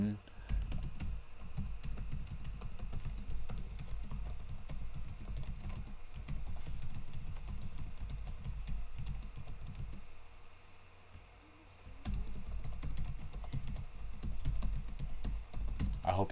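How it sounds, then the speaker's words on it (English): Someone types on a computer keyboard in quick, uneven bursts of close clicking keys, pausing briefly midway before resuming, with faint background talk. "I hope you can hear my keys typing,"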